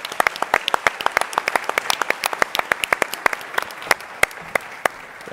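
A crowd applauds at a startup pitch competition, dense, fairly loud clapping with sharp individual claps standing out near the listener, continuing for several seconds before thinning slightly.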